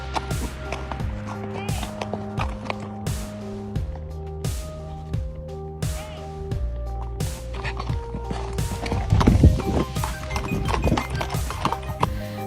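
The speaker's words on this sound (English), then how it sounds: "That horse sprinting in the other direction sells that theory for me." A horse runs off, its hooves clip-clopping in a steady repeated beat through the whole stretch, loud and near, set against a dense musical backdrop that swells toward the end.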